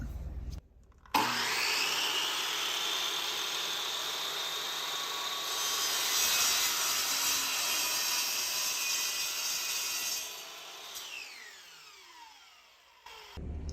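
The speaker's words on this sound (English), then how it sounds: "it's time to cut the blade to size" A replica Attack on Titan ODM gear sword blade being cut to size with a power tool: a loud, steady, harsh cutting roar lasts about ten seconds, then the tool winds down with a falling whine, with no talking.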